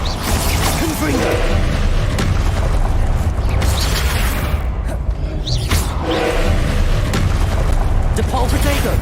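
Confringo fire spells explode during Hogwarts Legacy combat, with loud, continuous booming blasts and whooshes layered over dense, roaring game noise.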